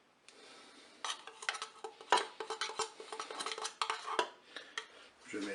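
A utensil stirs melted chocolate and sweetened condensed milk in the worn pot of a Cookeo multicooker, giving close, irregular scraping and clinking strokes that start after a quiet moment.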